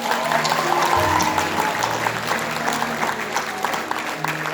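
A crowd at a live Sufi festival performance claps steadily for several seconds, a dense and fairly loud round of applause with a low musical hum underneath.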